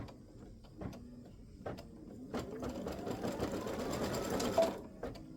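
An embroidery machine runs tack-down stitches for a free-standing lace butterfly earring design. Quick mechanical stitching pulses follow a few clicks, sound steady and close, and grow a little louder toward the end with a faint whine.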